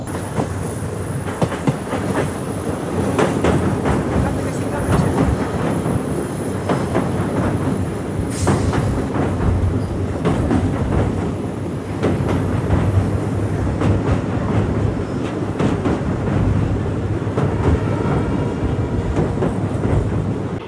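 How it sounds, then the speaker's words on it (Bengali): The Setu Superfast Express running on rails from Rameswaram toward Chennai Egmore near the Pamban Bridge makes a loud, continuous rumble with rhythmic clickety-clack of wheels and occasional faint squeals, with no talk. "রামেশ্বরম থেকে চেন্নাই এগমোরের পথে আমরা এই ট্রেন জার্নিতে কভার করব 601 কিলোমিটার ডিস্টেন্স"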